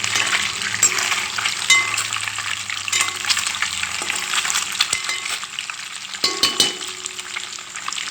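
Food frying in a pan for a tomato and egg dish, a loud continuous sizzle with stirring scrapes and occasional clinks throughout.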